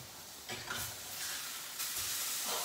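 Just-turned steak sizzles loudly in a pan, a continuous close hiss that swells in a few bursts as the meat settles.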